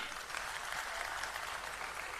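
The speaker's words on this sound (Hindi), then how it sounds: "एक बार जोरदार तालियां" Audience applause at a Delhi public speech event: dense, even crowd clapping that continues without a break, with no one speaking over it.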